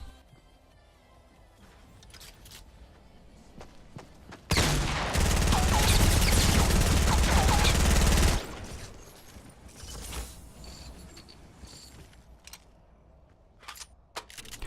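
A sustained burst of SMG fire in Fortnite, a loud continuous rattle lasting a few seconds, framed by quieter game ambience and scattered sharp clicks and impacts.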